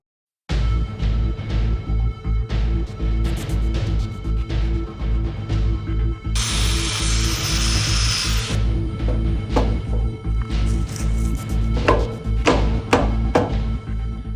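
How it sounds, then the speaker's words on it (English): A cutoff grinder cuts into a metal camper hitch lock, a loud, continuous grinding roar with clanks and knocks throughout and a brighter, harsher burst of cutting midway. "Let's see if a grinder like this would be strong enough to cut into this lock."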